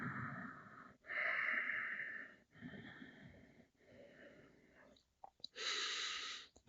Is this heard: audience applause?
no